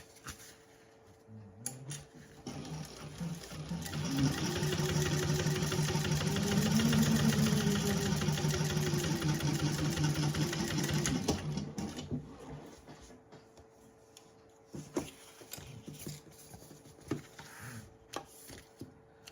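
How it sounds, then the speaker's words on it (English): A sewing machine top stitches the lining of a fabric candy bag, whirring steadily for several seconds before stopping, followed by quieter handling clicks and rustles. "give it a really good finger press and top stitch on the lining side"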